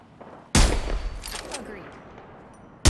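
Gunfire in the Apex Legends video game: a sudden loud burst of shots at the start, several quick cracks and a fading tail, then another sharp shot at the very end.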